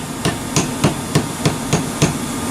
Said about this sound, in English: you take a hammer and put it where it needs to be